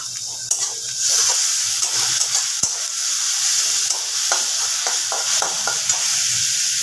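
Green chilies and a spoonful of garlic paste sizzle in a hot pan of oil while being stirred, a steady close frying hiss with scattered scraping clicks from the spoon, no voices over it.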